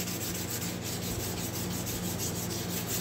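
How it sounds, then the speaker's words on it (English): Steady rasping scrub of a very hard sanding block knocking down high spots on a part during a Honda ATC90 restoration, continuous and close with a faint rhythmic pulse and no talk. "I'm using the very hard block here. Take the high spots off."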